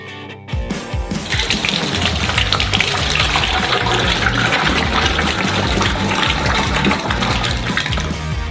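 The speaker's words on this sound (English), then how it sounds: "Pour half of it into another saucepan." Thick caramel pours steadily from a pot into another saucepan while making a giant peanut-filled ice cream bar, a continuous loud gushing, splashing flow that runs nearly the whole stretch without talk.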